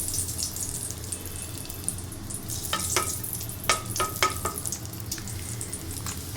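Whole cardamom and cinnamon frying in hot ghee for a semolina halwa, with a continuous sizzle under a few sharp clicks and taps of a spoon against the pan.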